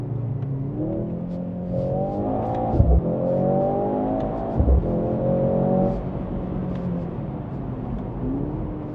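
A Mercedes-AMG C63 S E Performance Estate with active sound enabled, in Sport Plus and manual mode, pulls hard. Its loud engine note climbs steadily through the gears, with two sharp shift breaks and a droning rumble heard from the cabin.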